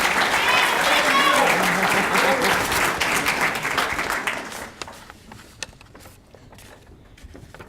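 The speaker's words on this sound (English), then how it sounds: "I thought y'all were clapping for me because I pronounced it right." An audience at a high school academy scholarship banquet applauds a scholarship recipient. The clapping is loud for about four seconds, then thins out and fades into a few scattered claps.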